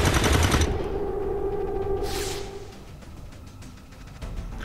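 Reaction fire in XCOM 2: a loud, rapid burst of automatic gunfire that cuts off quickly, followed by a whooshing swell and game noise that fades away.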